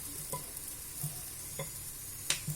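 Faint oil sizzle under a vegetable paratha in a pan as it is turned over, a quiet steady hiss broken by a few soft clicks and taps.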